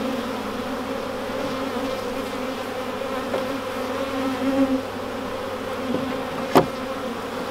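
Honey bees buzzing in a dense, steady drone around an opened hive with honeycomb cut open, close and continuous, with a brief sharp tap near the end.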